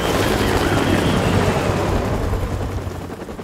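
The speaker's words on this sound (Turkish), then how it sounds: "Kim buldu bu helikopteri ya?" A helicopter in Call of Duty 4: Modern Warfare Remastered gives a steady, loud low rotor-and-engine rumble with broadband wash, holding throughout and easing slightly toward the end.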